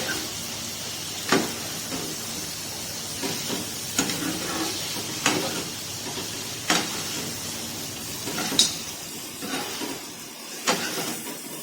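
Kaleji masala with mashed tomato frying on a tawa, a constant close sizzle broken by sharp scraping clicks of a spatula every second or so, no voices.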